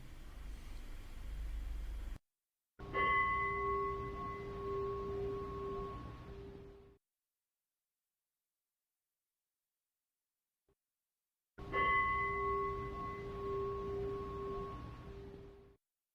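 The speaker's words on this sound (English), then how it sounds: "the bell to end meditation will ring." A meditation bell is struck twice, about nine seconds apart, each ring a clear, sustained tone that slowly fades. Silence falls between the strikes, and a low hum comes before the first.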